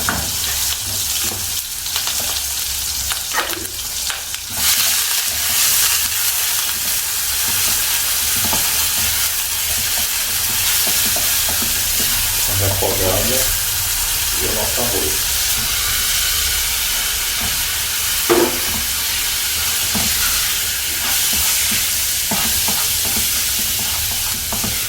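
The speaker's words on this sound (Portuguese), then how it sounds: "Você dá uma leve fritada no arroz." Rice lightly frying in a pan with chopped onion and garlic during a basic cooking class, giving a steady close sizzle throughout with occasional stirring scrapes and brief louder crackles.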